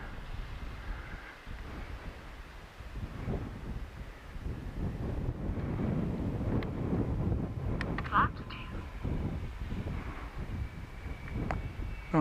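An AtomRC Beluga RC plane passes slowly with flaps down, a faint motor drone almost buried in wind buffeting against the microphone and swelling briefly near the middle of the pass.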